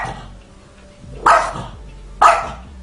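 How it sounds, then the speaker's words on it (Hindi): A dog barks angrily at a cat twice, sharp and loud, about a second apart, with a low growl in the quiet between. "ये कुत्ता बड़े गुस्से में इस बिल्ली पर भौंक रहा था"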